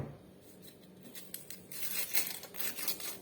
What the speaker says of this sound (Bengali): এখন আমি পেঁয়াজ কাইটা নেবো